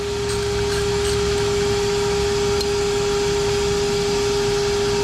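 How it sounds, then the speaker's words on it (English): Vacuum cleaner working on a 2011 Audi A4 engine, a loud, constant motor whine with a steady pitched hum running throughout, no talk. "I hope this vacuum cleaner trick works."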